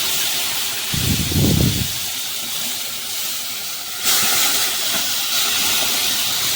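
Boiled masoor dal and bottle gourd hit a hot tempering in the pan, giving a steady loud sizzle with a splashy burst early on and a stronger hissing surge midway, with no talk.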